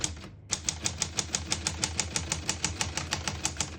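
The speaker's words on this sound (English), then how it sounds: "We're going to keep it on single for now and finish typing." A 1938 Corona Standard portable typewriter types in a fast, even run of sharp key strikes, close and crisp, about five per second after a brief pause, with no voices.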